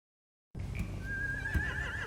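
A horse in The Walking Dead game neighs once after a brief silence: a clear, wavering whinny that rises and holds over low stable ambience, close and fairly loud.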